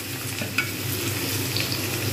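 Small-chopped onion frying in oil with black cumin (kalonji) in a pan, a steady soft sizzle with faint stirring scrapes and one brief clink, continuous and moderately close, no talking.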